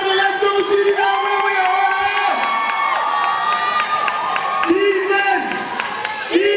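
Home crowd cheering and chanting at a women's basketball game in the CBC Women's Championship, Guyana versus Surinam, a loud sustained rhythmic chant with shouting voices filling the arena, with a commentator talking over it.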